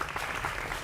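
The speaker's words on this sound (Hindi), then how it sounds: "जोरदार तालियों के साथ स्वागत करिए" Studio audience applause on a Hindi TV news debate show, a dense steady wash of clapping that holds throughout without any talk.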